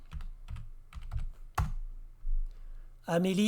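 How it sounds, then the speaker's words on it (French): Keystrokes on a computer keyboard come as short separate bursts at a moderate pace, loud and close, and a few sharper taps follow before a voice cuts in at the end. "Si je tape Amélie"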